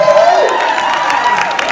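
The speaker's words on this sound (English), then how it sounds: "Let's give DJ Alejo a round of applause." An audience at a Night to Shine dance event cheers and claps loudly for a radio DJ, a sustained crowd roar with whoops and a tonal musical sweep underneath.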